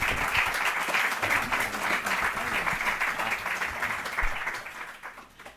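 Audience applause at the end of a lecture introduction, a dense, steady round of clapping from a seated crowd, moderately loud and continuous, fading slightly toward the end.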